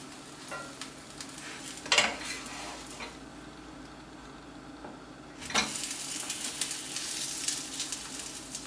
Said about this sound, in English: At this stage, we will flip the other side.